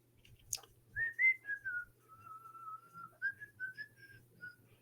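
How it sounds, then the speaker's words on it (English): A person whistles a short tune alone, with clear, wavering single notes that slide and hold in a relaxed melodic phrase against a quiet room hum. "I'll whistle"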